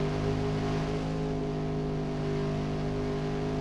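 Race car engines on a NASCAR Racing 2 restart, a dense, loud, continuous roar with layered engine tones sustained close by for the whole stretch, with no voices over it.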